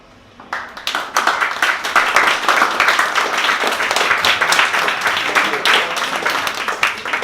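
Enthusiastic audience applause at a poetry reading, starting abruptly and holding as dense, steady clapping with a few sharper claps standing out, loud and close.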